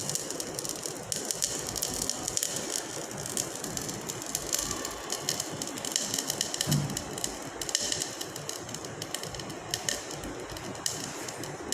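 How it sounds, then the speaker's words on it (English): Heated lead nitrate crystals decrepitate with a continuous dense crackling and popping, like rapid fine rattling, fairly close and steady throughout with no talking. "As you can hear the sound, crackling sound."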